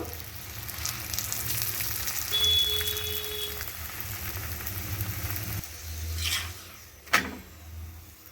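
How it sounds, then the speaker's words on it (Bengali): A radish paratha frying in oil in a wok, with a steady close sizzle that drops quieter partway through, then a couple of brief clattering knocks near the end. "কড়াইতে তেল দিয়েছি আর ওই তেলের মধ্যেই আমি পরোটাকে দিয়ে দিলাম"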